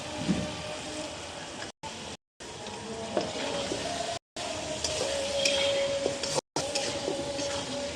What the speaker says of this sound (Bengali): এই যে আমি মাংস দিয়ে দিতেছি